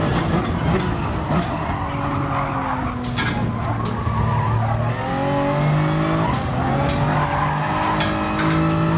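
A race car in the GT Sport video game drives continuously, its engine note rising and falling through gear changes with recurring tire squeal and skidding through corners, loud and steady throughout.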